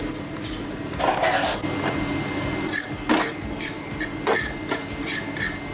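White sesame seeds roasting in a small frying pan make scattered popping bursts and crackles over a steady background hum, with the pops coming in uneven clusters and no voices.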